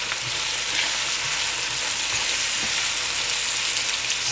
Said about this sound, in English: So I'm adding beans, carrot.